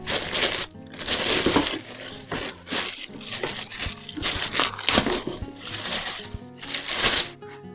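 Crinkly plastic crunching and rustling as the plastic plant protector of a Bosch EasyGrassCut 23/26 grass trimmer is handled, in repeated close bursts with short pauses between.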